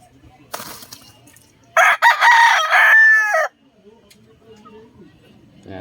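A Boston over Tornado Hatch gamefowl rooster crows loudly and close once, a long strained call ending in a drawn-out tail, with faint background clucks and murmurs before and after.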